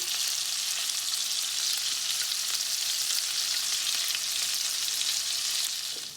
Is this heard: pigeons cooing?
no